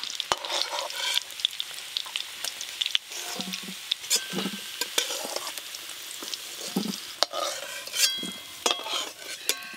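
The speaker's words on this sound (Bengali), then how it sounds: "মাংসের জন্য আলুগুলোও বেশ ভালো করে ভাজা হয়ে গেছে" Potatoes for a meat curry sizzle steadily as they fry in a pan, with clinks and scrapes of a utensil stirring them at irregular intervals, close and moderately loud, with no talking.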